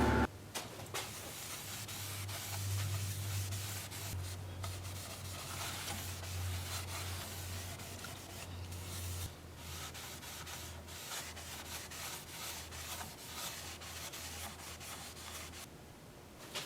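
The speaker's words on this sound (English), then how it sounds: "I'll switch over to 2-inch sanding discs and go through 400 grit" Steady abrasive sanding of a cherry burl platter on a lathe with 2-inch sanding discs, a continuous rough rubbing hiss with a low motor hum, close and unbroken for the whole stretch.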